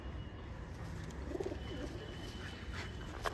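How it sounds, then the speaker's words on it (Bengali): A male pigeon coos softly in a loft, a brief low rolling call under steady background noise and a faint high hiss. "দাদার ঘরে এই একটা নর পায়রা"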